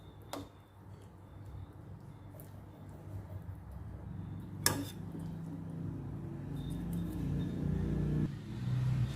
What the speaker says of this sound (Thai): บ้านอยู่ติดถนนก็เสียงรถแลนไปแลนมากก็ดังแห้งแห้ง